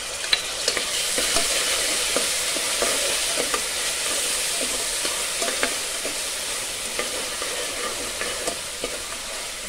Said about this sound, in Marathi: आता आपण ह्याच्यामध्ये टोमॅटो घालत आहोत.